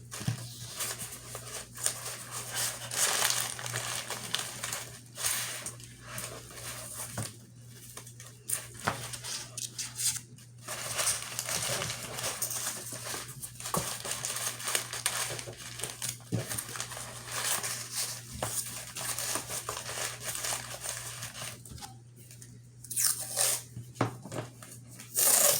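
Tape is pulled, applied and crinkled over a sculpture armature, giving continuous close crackling and rustling with scattered sharper crinkles and short pauses over a steady low hum.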